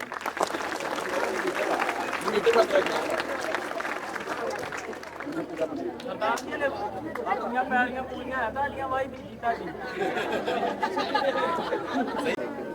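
An audience at a live talk event bursts into applause, dense clapping mixed with crowd chatter and a little laughter, with someone speaking over parts of it.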